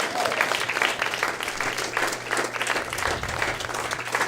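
Sustained audience applause at a songwriters showcase after a band's set, a dense, steady wash of many hands clapping throughout, fairly close and loud with a low hum beneath.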